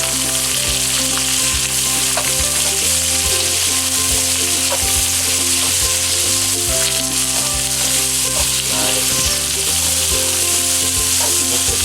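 Diced onions frying in a pot for beef noodle soup give a loud, dense, continuous sizzle, close up, with occasional knocks of stirring and no voices.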